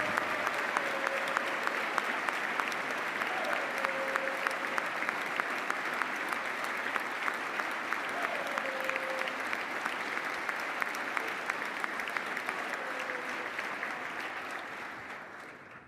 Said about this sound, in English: Somebody had to get more applause than Max.